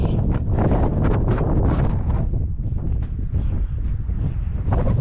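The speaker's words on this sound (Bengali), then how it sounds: "শুধু বাতাস না, একদম হিম শীতল বাতাস।" Strong, icy mountain wind on the Lukla to Namche Bazar trek toward Everest Base Camp, roaring steadily and buffeting the microphone with loud, close gusts throughout.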